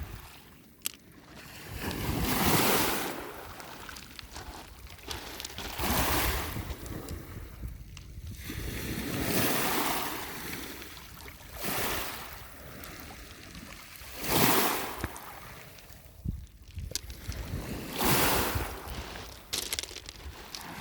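Waves from Lake Ontario break and splash against a rocky shore in repeated surges every few seconds, loud and close, with wind buffeting the microphone.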